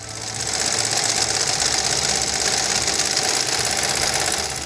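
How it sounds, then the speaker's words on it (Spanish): A sewing machine runs steadily and loudly, stitching a velcro strip to reinforce it, a continuous fast mechanical whir with no pauses and no talking. "Después, debe meterse a la máquina de coser para reforzar el velcro y no se despegue."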